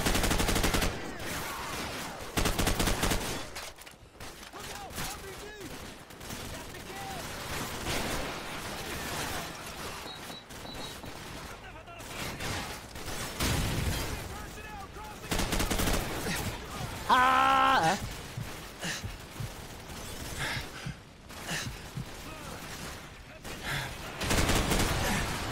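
Sustained suppressing gunfire in Call of Duty 4: Modern Warfare, dense bursts of automatic fire and explosions rolling on almost without pause, with shouted voices in the mix.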